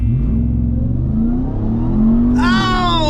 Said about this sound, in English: Can the TRX actually take down the Model Y in a drag race?